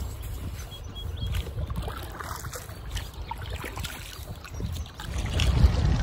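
Paddle strokes from a Sea Eagle Explorer kayak on Pine Creek in Pennsylvania's Pine Creek Gorge, soft water splashes and trickles over steady low wind rumble, growing a little louder toward the end.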